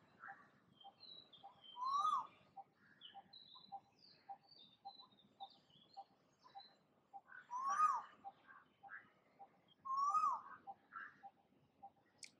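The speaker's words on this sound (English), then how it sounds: "So many birds chirping." Several songbirds chirp and twitter softly in the background, with short tweets scattered throughout and a few louder, clearer calls standing out every few seconds.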